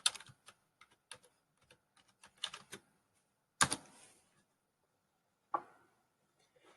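Keys tapped on a computer keyboard while entering a search word, a quick burst of close clicks followed by a couple of separate louder key strikes after pauses, with no talking.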